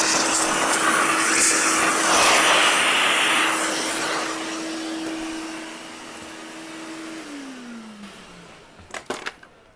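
A Bissell vacuum cleaner runs with a steady loud whine, its pitch sliding down as it winds off near the end, followed by a few clicks and knocks.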